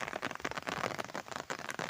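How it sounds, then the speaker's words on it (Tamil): Rain starting to fall outdoors, a dense, continuous pattering hiss at moderate loudness with no voices. "மழை வர ஆரம்பிச்சிருச்சு."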